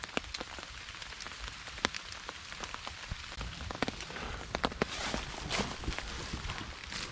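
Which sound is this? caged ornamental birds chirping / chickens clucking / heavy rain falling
heavy rain falling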